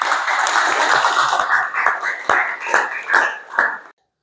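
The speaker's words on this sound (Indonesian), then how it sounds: "Mari kita beri tepuk tangan lagi." Applause from a classroom group, a burst of claps that settles into several rhythmic, evenly spaced claps before stopping abruptly, close and loud.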